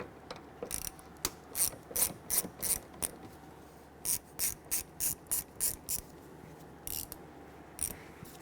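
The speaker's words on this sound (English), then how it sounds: "We're going to use a T25 Torx bit with our 1/4-inch ratchet." A 1/4-inch ratchet turning a T25 Torx bit clicks in quick bursts while removing an anchor from a 2011-2023 Dodge Charger tail light, the crisp ratcheting close and alone.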